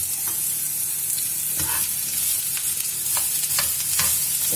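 Onion piece frying in a pan, a steady soft sizzle with occasional stirring scrapes and small crackles throughout, fairly close and without talk.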